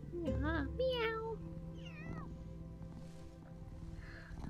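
Lynx cubs in the video game Shelter 2 give a string of high, wavering mews up close, several rising and falling cries in the first two seconds, then fainter ones over a steady low hum.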